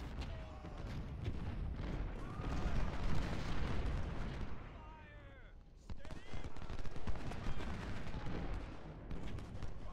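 Artillery and rifle fire in Ultimate General: Civil War during the Battle of Vicksburg, a steady distant rumble of cannon booms and crackling musketry, fairly quiet, under the game's ambient sound.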